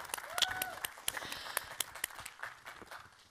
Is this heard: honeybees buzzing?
no